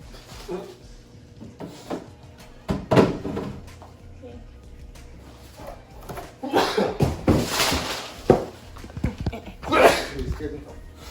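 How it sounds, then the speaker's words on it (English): A couple of sharp, bursting sneezes stand out amid rustling and household clatter, with some talking between them. "I am sneezing."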